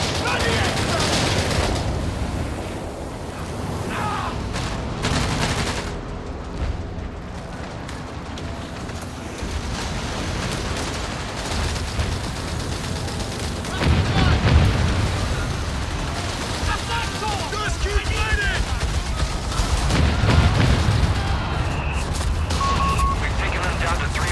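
Carpet-bombing explosions in a 3v3 strategy match on the Mignano map with US Forces airborne troops: a dense, continuous rumble of blasts and gunfire, swelling louder in places, with a voice talking over it.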